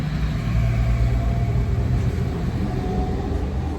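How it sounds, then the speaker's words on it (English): A big truck rolling past on a nearby road, a loud sustained low rumble of its engine that stays steady throughout, with no voices. "Big truck driving by."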